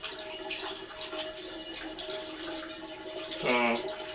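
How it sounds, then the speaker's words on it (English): Water is poured into a cider fermenter, a soft continuous trickle and splash with a brief gurgling rush near the end, heard fairly quietly up close. "I'm going to go ahead and add the rest of this water"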